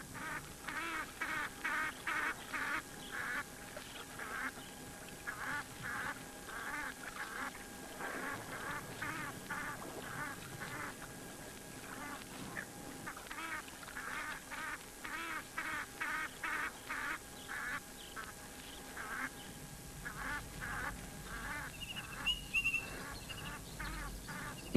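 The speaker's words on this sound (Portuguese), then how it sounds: "dá lugar a poços esparsos, com seus belos nadadores, os gansos egípcios" Egyptian geese at a waterhole give repeated honking calls in rhythmic bursts, moderately distant and fairly faint, with several birds calling over the quiet outdoor background.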